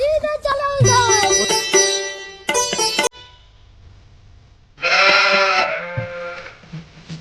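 A goat bleats loudly and close, with a few wavering cries, a short pause of quiet, then another long strained bleat.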